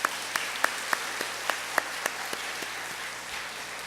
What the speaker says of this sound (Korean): 모든 아버지들에게 한번 격려의 박수를 한번 보내주시면 좋겠습니다.